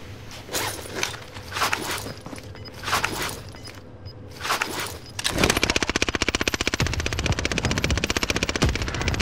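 Video game gunfire in a prison setting: scattered shots over background sound, then a steady rapid burst of automatic fire that runs loud and continuous to the end.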